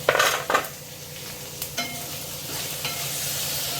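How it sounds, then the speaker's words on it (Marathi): Peas, drumstick pods, carrot, capsicum and tomato are stirred and sautéed in a pan, with a couple of sharp scraping stirs at the start and a steady soft sizzle underneath afterward. "वाटाणा चांगला परतून घ्यायचा, आणि शेवग्याची शेंग, गाजर, ढोबळी मिरची, टोमॅटो चांगलं परतून घ्यायचं"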